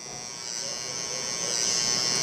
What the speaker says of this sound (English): angle your clipper blade a little bit